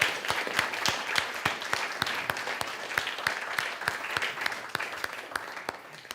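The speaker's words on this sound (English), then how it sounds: "So could we give them a round of applause?" Audience at a Unity Center of Peace church service applauding, a sustained round of many hands clapping with sharp individual claps standing out, close and steady throughout.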